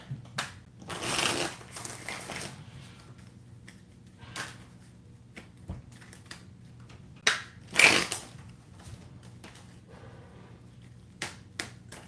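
Dry papery riffles and soft clicks of cards being shuffled, with a longer burst early on and another near the end, close by and fairly quiet.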